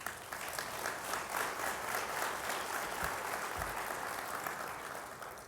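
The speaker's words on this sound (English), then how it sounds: "Let's give them a round of applause." Conference audience giving a round of applause for international representatives, an even, sustained clatter of many hands at moderate distance, steady from start to finish with a couple of soft thumps near the end.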